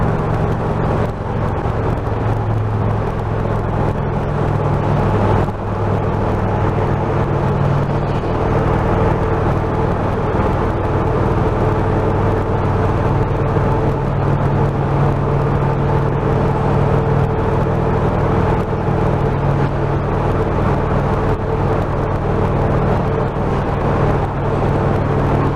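A BMW 1200RT motorcycle rides through a tunnel, its engine and wind noise forming a dense, constant roar that echoes steadily throughout with no talking.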